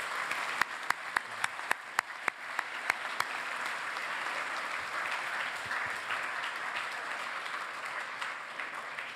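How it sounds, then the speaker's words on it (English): A school presentation day audience breaks into sustained applause, with dense clapping throughout and several louder individual claps standing out early on. "I think he deserves a big round of applause."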